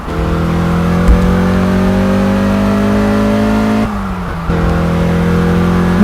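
Car engine in the racing game Test Drive Unlimited revving steadily upward as it gains speed, a loud continuous drone with rising tones and a brief dip like a gear shift near the end.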